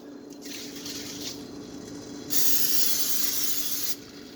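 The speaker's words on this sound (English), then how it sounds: "I don't have any regular olive oil, so I'm going to have to use the spray can" An olive oil spray can hisses into a cooking pan on the stove, a faint spritz first, then a loud, steady spray lasting about a second and a half before cutting off.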